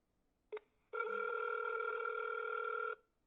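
A phone set down right beside the microphone emits a short blip, then a steady electronic ring tone that holds for about two seconds before cutting off cleanly, loud and close with no voices.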